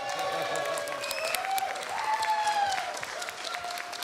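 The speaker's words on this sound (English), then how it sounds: "Round of applause." Audience applause at the Gran Turismo World Series racing awards ceremony in Montreal, a steady wash of clapping with crowd noise and a few voices mixed in, fairly close and sustained throughout.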